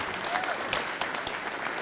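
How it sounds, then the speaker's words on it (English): Sustained, dense applause from an audience at a city council meeting, honoring a team of first responders; steady, moderately loud clapping with no talk over it. "let's have a great round of applause for this wonderful team"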